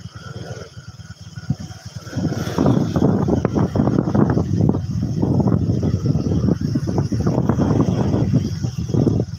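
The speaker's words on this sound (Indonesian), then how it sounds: "aduh bahaya banget nih ombaknya" Rough surf at Pangandaran beach, with waves rolling and crashing close by in a loud, continuous churning roar that swells after a quieter opening, buffeted by wind.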